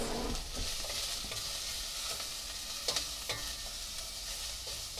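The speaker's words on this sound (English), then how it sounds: "So while that's frying up nicely" Sausage and vegetables sizzle and fry steadily in a pan, with a few louder crackles and pops near the middle and occasional scraping of a utensil.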